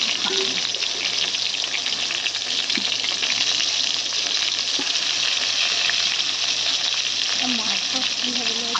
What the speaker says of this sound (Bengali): আর এই দেখুন বেগুনগুলো একটু ভালো করে লাল লাল করে ভেজে নেবার।